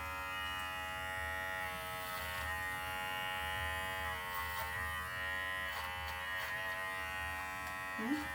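An electric shaver buzzes steadily through a dog's chin fur during grooming, a continuous close hum with faint shifts in pitch as it moves, running under the whole stretch.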